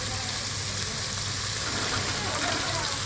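Spiced oil with turmeric sizzles and crackles in a pan as boiled chickpeas go in, a steady close hiss with a low hum underneath and no talking.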